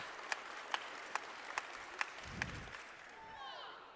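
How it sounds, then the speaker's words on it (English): At a high school shot put state championship, the crowd claps in a slow, steady rhythm, six sharp unison beats about twice a second, then fades into quieter background with a voice murmuring. "Those Muskoma kids were a little slow to get on the clap."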